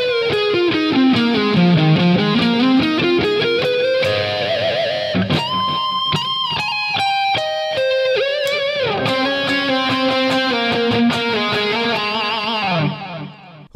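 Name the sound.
distorted electric guitar solo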